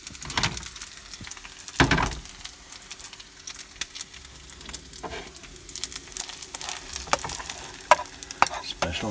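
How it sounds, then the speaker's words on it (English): Special fried rice frying and being stirred in a pan at a beach camp on the Brittany coast: continuous close sizzling with scraping and knocking utensil strokes, a loud clatter near the start, and no talking. "Special fried rice."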